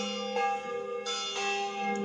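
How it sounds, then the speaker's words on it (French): Church bells ring in the small village of Massugas in the countryside, a steady sustained peal with rich, lingering overtones and fresh strikes layered in, no voices. "nous entendons joyeusement sonner ces cloches"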